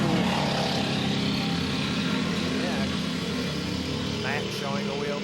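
Dirt karts race bumper to bumper in a 50-lap feature at Galletta's track, Oswego, 2008: a dense, steady roar of several small engines with rising and falling revs from cars close together, likely with commentary underneath.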